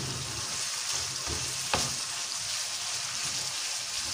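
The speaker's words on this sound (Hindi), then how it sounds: "बस अब हम ये सारे जो मसाले हैं इनको मिक्स करेंगे।" Spices stirred together in a hot pan for a curry of bitter gourd and onion make a steady, even sizzle, with one sharp scrape or clink of the spoon partway through.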